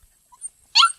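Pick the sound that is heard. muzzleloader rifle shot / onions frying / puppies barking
puppies barking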